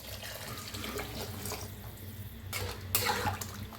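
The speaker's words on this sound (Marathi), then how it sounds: "गरम पाणी करून घेतलं होतं, ओतूया" Hot water poured into a pot of masala rice cooked with tondli (ivy gourd), a steady close splashing pour that grows fuller and brighter toward the end, with no talking.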